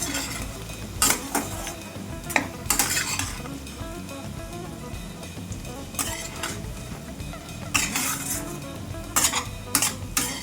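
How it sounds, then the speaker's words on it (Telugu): Boiled potatoes frying in oil in an open pan, a steady loud sizzle broken by repeated scraping strokes of a spatula and clinks against the pan, with no voices. "మూత అనేది పెట్టకుండా ఫ్రై చేసుకోనండి, ఎందుకంటే మూత పెడితే మగ్గిపోతాయి."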